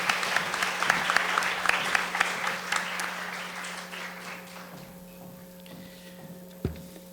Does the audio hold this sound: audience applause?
yes